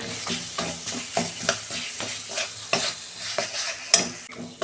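A spice mix with grated coconut is sautéed in a pan for a snake gourd dish, with a spoon scraping in a steady rhythm of repeated strokes over a soft sizzle.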